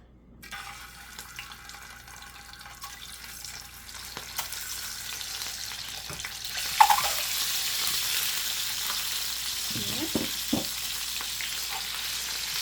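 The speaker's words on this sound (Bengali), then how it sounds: "আমি এটাকে একটু ভেজে নেব।" Eggs with salt begin frying in a pan, a soft sizzle that swells after a few seconds and continues steadily, with a couple of scraping stirs near the end.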